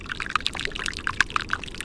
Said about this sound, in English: Geoscientists actually study the fizzing, popping, and cracking sounds of glaciers to monitor the rate of melting.